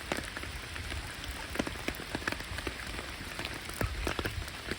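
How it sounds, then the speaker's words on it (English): Heavy rain falls steadily during a bird feeding of ducks and a sparrow, a dense hiss of drops with scattered sharper patters striking a nearby surface, alone without talk. "Oh, so much rain"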